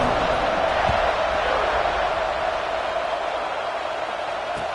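A stadium crowd at an American football game keeps up a broad, steady roar of cheering during a kickoff after a touchdown, a dense wash of noise with no break.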